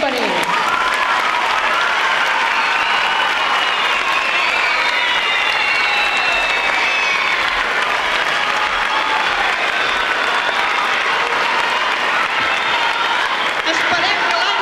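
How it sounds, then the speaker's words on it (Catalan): A Christmas cantata audience gives a big round of applause for the music teacher, loud, continuous clapping with crowd cheers and voices mixed in, holding strong throughout. "Un gran aplaudiment per ell."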